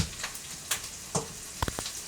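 Onions frying in oil give a soft, continuous sizzle with scattered light pops and crackles, one or two sharper spits standing out near the end.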